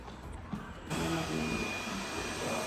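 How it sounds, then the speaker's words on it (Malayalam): A robot vacuum cleaner starts up indoors in a house being readied for moving in, a quiet whir that swells into a steady, loud whooshing drone and holds without talk. "ഇപ്പോൾ നമ്മളുടെ റോബോ ക്ലീനിങ് സ്റ്റാർട്ട് ചെയ്തിട്ടുണ്ട് കേട്ടോ"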